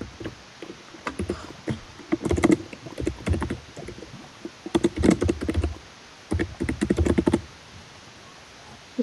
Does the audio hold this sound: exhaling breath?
no